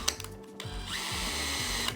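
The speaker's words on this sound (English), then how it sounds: "So I'm drilling with a 1/4 inch drill bit" A power drill with a 1/4 inch bit bores into pegboard, whirring up close in short bursts before settling into one sustained, steady drilling run.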